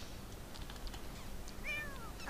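A kitten in The Sims 4 gives a few thin, high meows near the end while playing with a laser pointer and fish, over a low steady game background.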